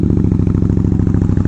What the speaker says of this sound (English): I like bogging the engines.